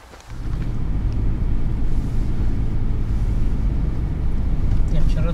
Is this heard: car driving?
yes